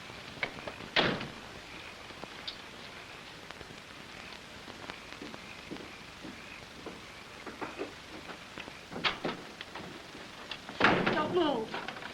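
A door opening as a man comes through, in a 1942 film: a sharp knock-like bang early on, scattered faint creaks and rustles, then a louder clattering burst near the end, all fairly close in a quiet room.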